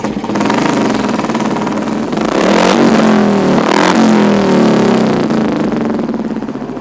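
A car engine revs hard and steadily for several seconds, loud and close, holding a strained roar that swells midway and eases slightly toward the end.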